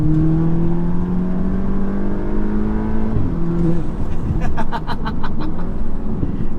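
A tuned Audi S3 with EQT tuning accelerates on a backroad, the engine droning upward in pitch from the cabin before a shift, then crackling pops and bursts as it pulls again.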